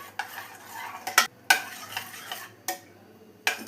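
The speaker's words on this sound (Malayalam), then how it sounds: "ഇനി ഇതെല്ലാം നന്നായി ഒന്ന് മിക്സ് ചെയ്തെടുക്കാം." A spoon stirs cooked dal into a Kerala parippu curry in a pan, scraping and clinking against the metal in irregular strokes over a soft simmering sizzle.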